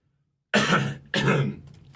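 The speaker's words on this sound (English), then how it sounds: "I'm going to cough for 1 second." Two harsh coughs close to the microphone, a brief silence before the first, the second following about half a second later.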